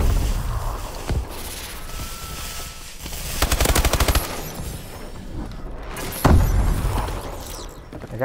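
Rapid automatic gunfire in Call of Duty Advanced Warfare rattles in close bursts, including a dense volley midway and a sharp loud shot near the end, with no talking.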